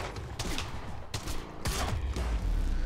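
Gunfire in the game Quantum Break, several loud close bursts of shots over a rumbling low background, spread unevenly across a short stretch.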